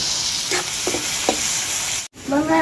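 Onions sizzle steadily in a pan for a Jaffna fish curry, with a few soft scrapes of stirring before a brief cut, and no talking.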